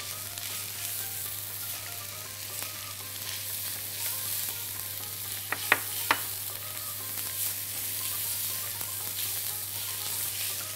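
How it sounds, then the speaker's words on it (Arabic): Garlic, onion and carrots sauté in hot fat, a soft continuous frying hiss beneath a low steady hum, broken by a couple of sharp utensil clicks near the middle. "شوحيه كويس قوي في المادة الدهنية"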